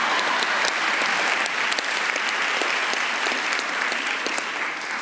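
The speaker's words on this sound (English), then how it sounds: "You can clap." Sustained audience applause at a 2022 high school graduation ceremony, a dense even wash of many hands clapping for several seconds, steady and fairly loud with no voices over it.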